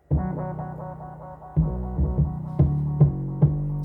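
An 808 beat shaped with a transient designer, its deep sustained bass notes opening with sharper, punchier attacks, hitting in a lively repeating rhythm that gets busier toward the end.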